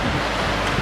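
Wind gusts across the microphone outdoors in the Mammoth backcountry, a loud, dense, continuous buffeting roar with no pauses.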